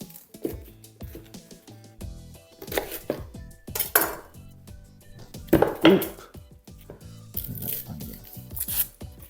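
A knife trims the ends off leeks for chicken stock on a board, giving scattered clicks and knocks among clattering kitchen utensils, irregular and close.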